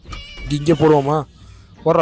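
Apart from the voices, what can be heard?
cat meowing in Scary Teacher video game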